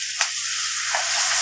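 Grated tomato tipped into a pan of frying onions and green chillies for aloo do pyaza, a loud close hiss of sizzling oil that rises and then settles into a steady crackle, no voices.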